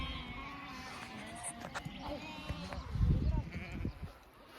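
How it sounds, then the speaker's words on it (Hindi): Sheep bleat across an open mountain meadow in Kashmir, several calls rising at moderate distance over steady outdoor ambience, with footsteps and a voice nearby. "वहाँ पे भेड़ इतने सारे."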